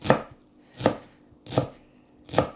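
A knife chops shallots on a cutting board in four evenly spaced, crisp strikes about three-quarters of a second apart, close and fairly loud, with no voices.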